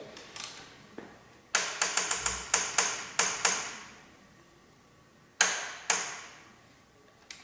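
A ratchet works an ultra-long exhaust bolt on a 2021 Yamaha MT-09, producing close, sharp metallic clicks in quick bursts separated by pauses, with a final pair of louder clicks near the end.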